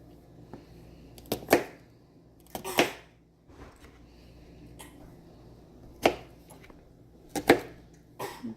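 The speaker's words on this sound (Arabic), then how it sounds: "دوكا نقصو الثوم" Garlic cloves are chopped with a knife in a home kitchen, a few sharp separate knocks on a board, some in quick pairs, spread out with quiet pauses between them.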